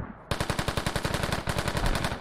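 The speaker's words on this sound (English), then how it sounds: "nice shooting there by Subtle" Automatic weapon fire in an online shooter match on the Fools Road map: after a brief quiet moment, a loud, close, sustained burst of rapid evenly spaced shots rattles on without pause.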